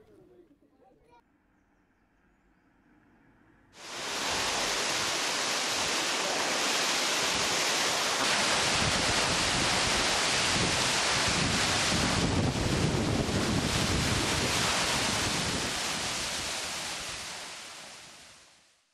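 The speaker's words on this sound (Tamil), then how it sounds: "தலையாறு அருவியில் நீர் ஆர்ப்பரித்து கொட்டும் அழகை சுற்றுலா பயணிகள் ஆர்வமுடன் கண்டு ரசித்து வருகின்றனர்" Thalaiyar waterfall in full flow after heavy rain, a loud steady broadband roar of falling water that starts abruptly after a few quiet seconds and holds continuously, close and unbroken, with no talk over it.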